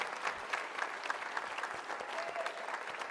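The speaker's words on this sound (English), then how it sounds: "Please, a big round of applause for our moderator, Indira, and our panelists." An audience at a panel discussion on progressive leadership applauds the moderator and panelists, steady, dense clapping from a sizable crowd that holds at an even level throughout without talk.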